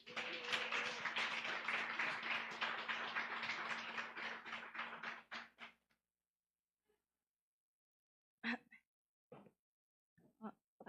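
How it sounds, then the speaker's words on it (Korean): Applause from a church congregation as a youth group member comes forward at a Sunday afternoon service, a dense, steady clapping that fills the room for about five seconds, then stops, leaving a few scattered footsteps and faint sounds. "나오실 때 큰 박수 부탁드립니다"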